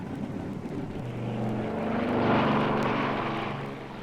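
Propeller aeroplane engine as a recorded sound effect, a steady droning hum with a tonal whine that swells to a peak past the midpoint and then eases off slightly, loud and unaccompanied by voices.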